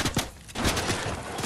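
Gunfire from the video game Fortnite sounds as a quick burst of sharp shots, loud and close, over a busy noisy background.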